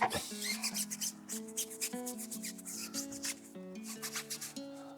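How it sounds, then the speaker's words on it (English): A Detail Factory Octane tire brush scrubs a car tire in quick back-and-forth strokes, a soft, close rubbing and rasping that repeats in uneven bursts with no voices. "We're going to take my new Detail Factory Octane tire brush, give that a bit of a scrub."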